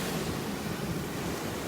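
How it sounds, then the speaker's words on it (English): Large ocean waves breaking and surging in a steady, dense wash of surf with wind rumble across the microphone, continuous and fairly loud with no talk. "Look at these massive waves, you guys"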